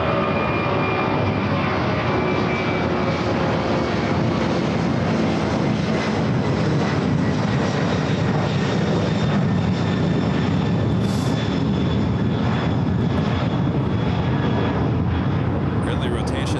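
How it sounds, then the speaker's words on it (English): A Boeing 767 airliner takes off at Los Angeles International Airport, its jet engines giving a steady, loud, sustained roar throughout with a broad rushing tone. "Early rotation there for that 767."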